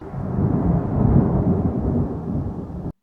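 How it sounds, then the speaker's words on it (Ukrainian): Thunder from a thunderstorm rolls in a long, deep rumble that swells and holds before cutting off abruptly, heard alone without any voices. "гроза,"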